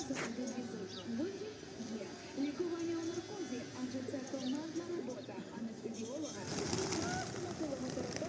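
Pigeons coo in a low, repeated warble close by, amid outdoor bustle and people talking in the background, near a fountain at the pump room in Truskavets, Ukraine.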